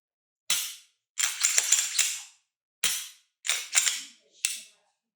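A pistol's trigger and slide during a function check give five sharp, close mechanical clicks and rasps, spaced irregularly, in an otherwise quiet room.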